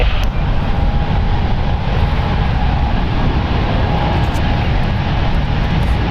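A brand-new Breeze Airways Airbus A220 jet departs San Francisco International Airport, its engines a loud, steady, broadband roar that holds unbroken from start to finish.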